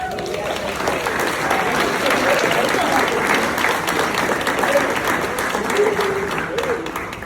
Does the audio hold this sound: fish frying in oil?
no